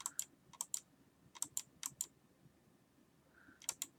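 Computer mouse clicks come up close and quiet: sharp, dry ticks in small clusters, several quick double-clicks, with short pauses between bursts against a hushed room.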